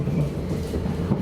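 Rumble of a train moving through a rail yard in the Netherlands, a steady low, close rolling drone with faint rhythmic wheel noise and no voices.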